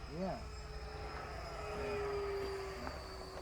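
A scratch-built, 3D-printed 70mm thrust-vectored Viggen RC jet on 6S power flying overhead, its ducted-fan whine steady and fairly distant, with a pitch sweep early on and a long sustained tone later.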